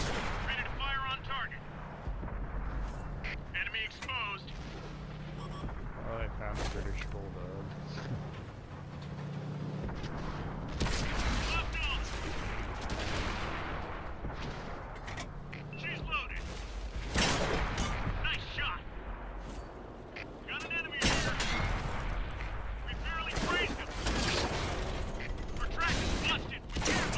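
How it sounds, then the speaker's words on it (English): Tank cannon fire in Type 58 gameplay: repeated heavy booms and impacts over a constant engine rumble, mixed with mechanical clanks and radio-style voices talking throughout. "They're shooting HE at me"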